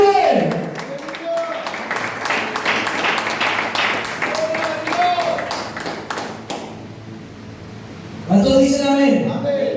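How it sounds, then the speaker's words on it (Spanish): A church congregation claps and applauds through a Spanish-language worship service, with steady rhythmic clapping under a preacher's amplified voice that drops away near the end before speech returns. "Aplauda al que vive, aplauda al que vive."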